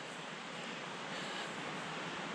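A river running full after rain, heard as a steady broadband rush of water, close and continuous with no talk.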